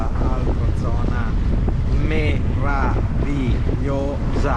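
A sailboat under sail off the rugged Corsican coast near the Scandola reserve, with heavy wind buffeting the microphone in a constant loud rush while someone speaks throughout.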